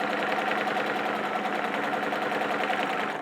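A sewing machine runs steadily while it quilts a baby quilt, its rapid, even needle rattle close and continuous before tapering off at the end.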